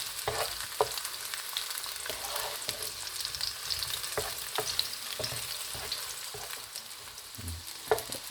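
Sausages browning in a frying pan crackle in a steady sizzle, with repeated soft knocks and scrapes as they are turned over.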